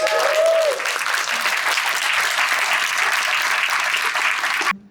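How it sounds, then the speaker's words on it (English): An audience claps at a live entrepreneur event as a guest is introduced, loud, dense applause lasting about five seconds before it cuts off abruptly. "Give her a round of applause."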